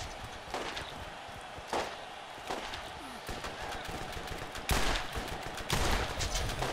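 Gunfire in Borderlands, a run of sharp shots at irregular intervals over a steady background of game noise, with a louder burst near the end.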